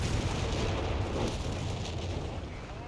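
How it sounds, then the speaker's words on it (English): Artillery fire from 75s shelling an AT bunker in a Company of Heroes 4v4 match, a steady loud rumble of distant booms and blasts rolling continuously without pause, with no clear individual shots standing out. "Now the artillery from the 75's are coming on in to break up that AT bunker"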